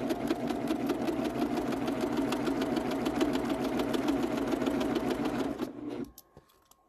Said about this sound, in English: But you'll start serging.